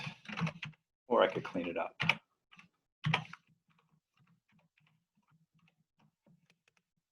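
An equation is typed on a computer keyboard, a few quick clusters of soft key clicks mixed in with a speaking voice, then light, faint tapping that trails off.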